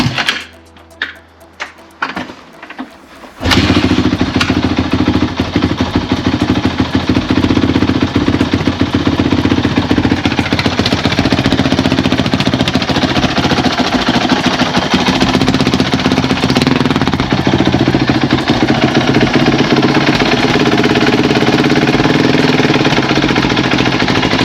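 A Kawasaki KX450F dirt bike fitted with a new titanium exhaust header starts up cold after a few sharp mechanical clicks, then idles with a steady, close, loud rattling thump that holds for the rest of the clip.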